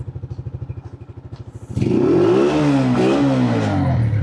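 Motorcycle engine up close, first thumping in a steady low idle pulse, then abruptly revved into a loud, sustained roar whose pitch rises and wavers.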